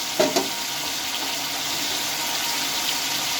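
Spice paste and a splash of water hit a pan of softened tomatoes with a brief loud splash near the start, followed by a steady, close hiss of frying that continues to the end.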